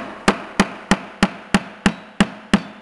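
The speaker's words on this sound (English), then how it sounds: "Then bring your little dowel up, with the rubber mallet, tap it in." Rubber mallet tapping a small wooden dowel into a drilled hole for a homemade cone thread stand, eight sharp, evenly spaced knocks close up, each hit fading quickly into quiet.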